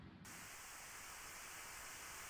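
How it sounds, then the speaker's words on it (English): Pink noise played through headphones: a dense, steady hiss that cuts in abruptly and then holds evenly, faint and unbroken, with no voices. "A sort of audio static which drowns out any sound from the outside world."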